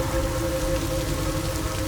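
Rain falls in a dense, continuous hiss with a low rumbling bed and no breaks over the short stretch, loud and close, with no voices.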